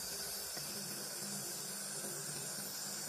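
A laser welder gives off a steady, airy hiss like a high-pressure air blow or mister, continuous and even for the whole stretch with no talking over it.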